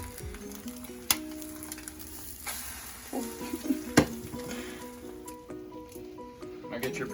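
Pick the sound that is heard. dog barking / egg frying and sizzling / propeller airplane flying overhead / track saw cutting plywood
egg frying and sizzling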